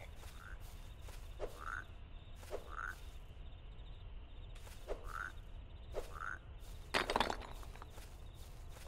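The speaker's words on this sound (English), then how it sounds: "I heard a frog." Frog croaks in a video game set in a polluted wild forest during a decontamination mission, repeating about once a second as short mid-pitched calls over a steady ambient bed, with a louder rustling burst near the end.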